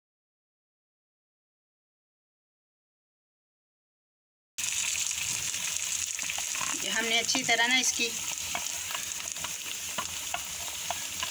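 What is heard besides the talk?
potatoes frying in a pan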